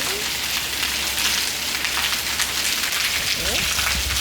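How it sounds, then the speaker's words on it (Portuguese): Rain falls steadily on surfaces outside a home, with water dripping from leaks, a dense, even hiss that continues throughout while a voice speaks softly in the background. "É chuva, meu amor."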